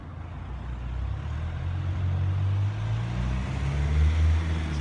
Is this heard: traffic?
yes